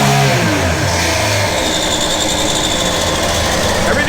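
A 2014 Sea-Doo GTX 215 jet ski engine revs hard and close, a loud continuous roar that climbs in pitch early on and then holds steady at high RPM, with no talking over it.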